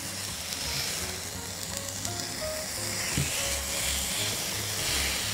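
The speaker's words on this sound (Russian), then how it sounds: "Арбуз все-таки со второй стороны я еще сильнее зажарю." Steady sizzling of bread and watermelon frying in a hot pan, a continuous crackling hiss with faint clinks, no voices.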